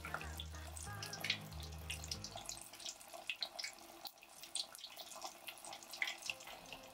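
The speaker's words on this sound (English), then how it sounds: "Deep fry the tofu pieces for about 3 minutes or until lightly golden" Tofu pieces coated for agedashi tofu deep fry in hot oil, a close, continuous crackle and bubbling sizzle with scattered sharp pops over a quiet low rumble.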